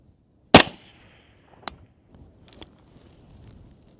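Single sharp rifle shot fired at a distant target at night, loud and close with a brief echoing tail, followed by a faint distant impact and quiet small noises.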